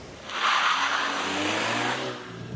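A 2022 VW Polo GTI facelift engine revs up in sports mode, a steady loud roar that climbs in pitch and holds high for a couple of seconds, heard close from inside the car with no talking.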